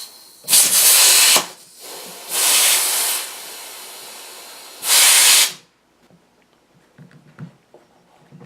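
A compressed air hose blows into a tire inner tube in three loud, sharp hissing blasts, each lasting about a second with short pauses between, followed by quiet handling noises.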